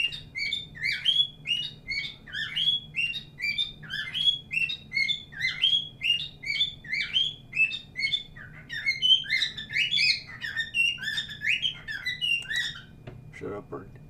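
A bird chirps rapidly in repeated high tweeting phrases, fairly close and continuous, over a low background hum, with no clear talking.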